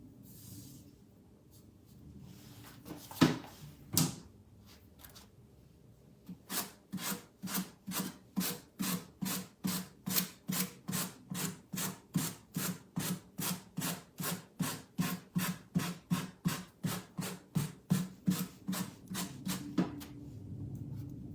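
Sanding along the edge of a wooden cabinet piece by hand: a few scattered scrapes, then a long, even run of rhythmic back-and-forth rasping strokes, close and clear, with no voices.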